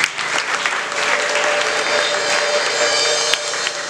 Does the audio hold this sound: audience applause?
yes